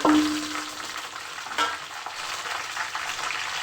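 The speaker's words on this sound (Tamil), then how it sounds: "வெந்தயம் போட்டதோட வெங்காயம் போட்டுக்கலாம் ஃப்ரெண்ட்ஸ்." Onions fry in hot oil with fenugreek seeds for a fish curry, a steady bright sizzle with a brief stir-like clatter partway through, close and continuous with no talk.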